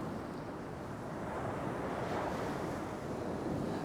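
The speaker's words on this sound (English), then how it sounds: "We've got a northerly wind today, and it's properly northerly." Strong northerly wind sweeping over the coast at Spurn Point, a loud steady roar of gusting air and buffeting microphone noise blended with surf, constant throughout with no voices.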